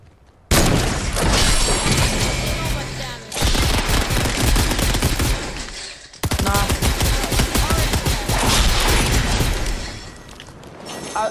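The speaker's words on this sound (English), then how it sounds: "He's sniping me in the head." Rapid sniper and automatic gunfire in a Fortnite match, loud bursts of shots and cracks filling the whole stretch with two brief lulls, and faint voices mixed underneath.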